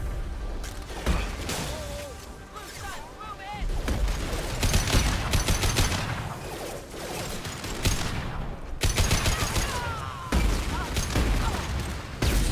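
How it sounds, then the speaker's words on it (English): Rocket fire and explosions in the Mass Effect 2 Korlus mission, repeated loud blasts and sustained booming combat noise throughout, with game effects layered over it and a voice talking at times. "That's a lot of rockets."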